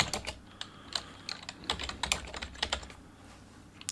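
Rapid, uneven keystrokes tap on a computer keyboard, close and fairly quiet, with irregular clicks and short pauses between bursts of typing.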